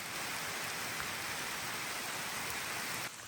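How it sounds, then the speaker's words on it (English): Heavy rain pours down outdoors on the Camino de Santiago during a storm, a steady dense hiss of drops on leaves and ground that runs continuously at fairly low level, then briefly thins at the end. "So it's really pouring now."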